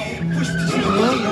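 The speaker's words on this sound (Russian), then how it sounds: "Дрифт вокруг девчонки." A motorcycle drifts in a circle at a stunt show, its tires skidding and squealing loudly and steadily across a short burst with the engine tone riding underneath.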